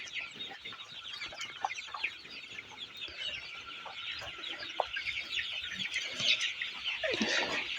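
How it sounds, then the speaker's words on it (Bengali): A crowd of 24-day-old colored broiler chickens clucks continuously on a poultry farm as they are being caught. The chatter is dense and overlapping, moderately faint, with no talk. "আমরা মুরগি ধরব আমাদের মুরগি খুঁজে খুঁজে ধরা লাগবে"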